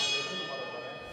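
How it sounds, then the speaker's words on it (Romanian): In a boxing match, a gong rings once with a bright metallic tone that fades away over about a second. "a bătut gongul, dar nu știu"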